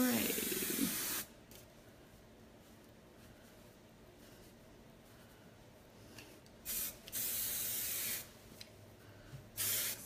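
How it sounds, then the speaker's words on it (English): Hairspray hisses from an aerosol can in a long burst, then after a quiet pause comes in several shorter bursts, close and sharp. "now I'm gonna spray a ton more hairspray"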